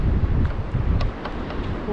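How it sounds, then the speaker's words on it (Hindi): Cool wind buffets a GoPro HERO 9 microphone outdoors, a steady low rumbling roar with gusty swells throughout, loud and close with no other clear sounds. "ठंडा हवा चल रहा है"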